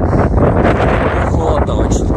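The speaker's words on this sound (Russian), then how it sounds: "Холодно очень. Ветер сильный." Strong, cold wind at Matanuska Glacier in Alaska roars continuously across the microphone, a loud, buffeting rumble that fills the whole clip.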